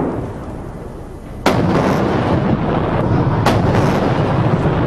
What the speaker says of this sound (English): A 70-gun salute in Tiananmen Square to mark the end of the war with Japan